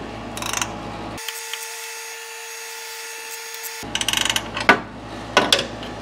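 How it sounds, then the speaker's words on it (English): Big wrench working a crank bolt on a Cadillac 472 engine, a few close ratcheting clicks and metallic clunks in bursts around an electronically silenced gap, with no talk. "All right, I got my big wrench."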